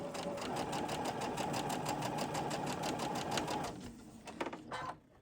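A sewing machine stitches a quarter-inch seam on a quilt star block at a fast, steady rhythm, then stops, followed by a few soft clicks and handling sounds.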